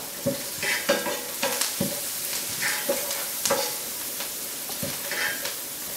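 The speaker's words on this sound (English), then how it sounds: "you start seeing my onions going a little bit brown now" Onions and bay leaves sizzle softly in a pan, with repeated close stirring scrapes and taps at an uneven rhythm over a steady low frying hiss.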